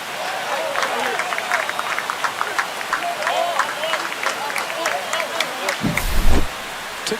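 Stadium crowd in the MLB The Show 25 baseball video game roars after a home run in a Dodgers vs Giants game, a steady broad cheer with a brief louder swell near the end, while a commentator talks over it.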